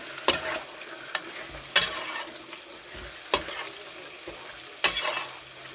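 Boti curry frying in a pan, a spoon scraping through it in four or five distinct strokes spaced about a second apart over a low continuous sizzle, close and clear with no speech.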